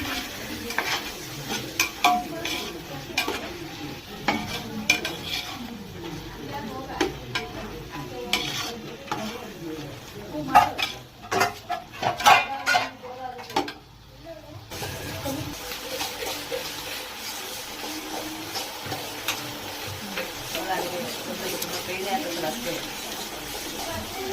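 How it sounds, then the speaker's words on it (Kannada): Green peas being stirred in a frying pan, with a steady low sizzle and repeated scraping and clinking of a utensil against the pan, close up, while someone talks over it. "ಇವಾಗ ಬಟಾಣಿ ಆ್ಯಡ್ ಮಾಡ್ತಾ ಇದ್ದೀನಿ"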